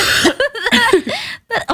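Several close, loud coughs break out in quick succession from two people together, with short laughing breaths and a brief gap of silence between bursts.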